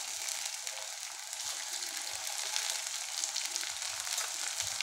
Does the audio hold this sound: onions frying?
yes